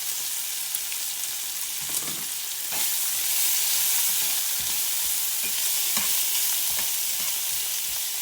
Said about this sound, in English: now we've got that bacon starting to cook and putting off a little bit of oil